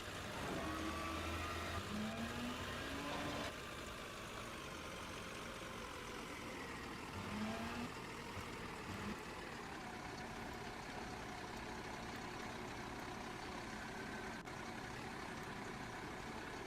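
A front-load garbage truck works nearby, giving a low steady engine drone with faint whining hydraulic tones that rise and fall over it. The sound stays at an even, moderate level throughout.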